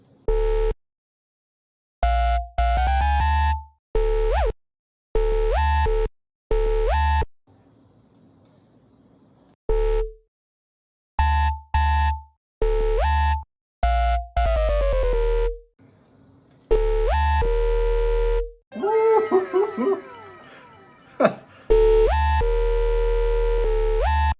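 Repeated synth bass notes start and stop in short bursts, some bending smoothly in pitch, with a swirling gliding passage near the end.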